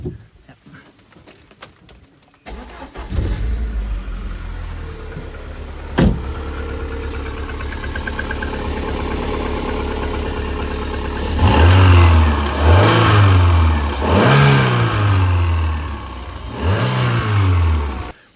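An old mid-engine petrol car, about twenty years old, cranks and starts, then idles roughly before several sharp revs rise and fall in succession, loud and close.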